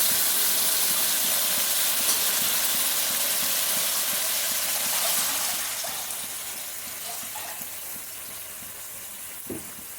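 Water splashed into mustard paste frying in a pan, a vigorous steamy hiss that starts strong and loud, then fades gradually over several seconds, with a small clink near the end and no talking.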